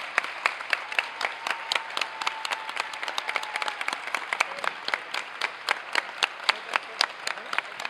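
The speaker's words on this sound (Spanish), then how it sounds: "Muchísimas gracias por venir y un fuerte aplauso para ellos." An audience at a manga and comic festival talk applauds the speakers, with sustained, moderately loud clapping marked by distinct individual claps throughout.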